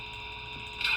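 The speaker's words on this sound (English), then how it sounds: "Oh, that's your coupling sound." A coupling sound effect from an LGB Stainz model locomotive fitted with a Zimo MS450 sound decoder: a steady mechanical hum, then one brief, brighter metallic clank near the end, heard close.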